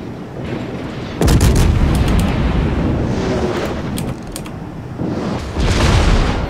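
Naval gun volleys striking a fort in the naval combat game World of Warships, heard as a sudden loud boom with rumbling debris and crackling impacts, then a second swelling rumble a few seconds later.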